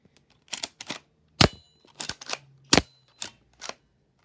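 Toy guns firing, about eight sharp snapping shots in an uneven sequence, close and fairly loud with short silences between them.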